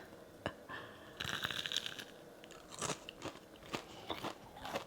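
Crispy fried paneer fingers bitten and chewed up close, giving sharp crunchy snaps and crackles in irregular bursts, a cluster of rapid crunching in the middle, fairly quiet overall.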